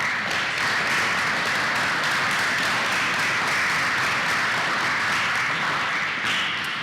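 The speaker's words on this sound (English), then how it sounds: "can we please give them a round of applause to thank them" An audience at a lecture event applauds in a dense, sustained wash of clapping that stays level throughout.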